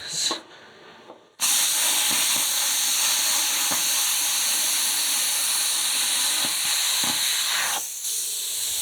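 A Lidl Parkside plasma cutter slices through metal with a loud, steady hiss that holds for about seven seconds, starting after a brief quieter moment and fading slightly near the end.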